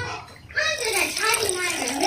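Water poured into a container holding silver jewelry with baking soda and salt for cleaning, a close, continuous pour whose pitch rises as the vessel fills.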